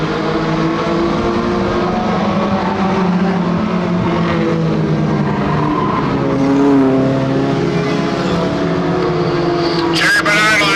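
Stock cars roar around the track in a 2001 race, a loud, steady engine drone from the pack with a pitch that shifts slightly as the cars pass, and a brief sharp squeal near the end.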